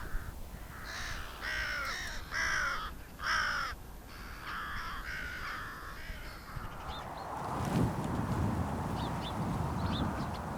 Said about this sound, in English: the commotion has attracted two other hooded crows